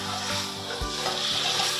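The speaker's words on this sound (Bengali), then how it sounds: "এবার খুন্তি দিয়ে একটু নাড়াচাড়া করে আমরা ওই ঝোলটি আবার কড়াইতে ঢেলে দেব।" A metal spatula stirs a rohu fish curry with pumpkin in a wok, giving steady scraping and a soft sizzle broken by a few low clunks against the pan, close by with no talking.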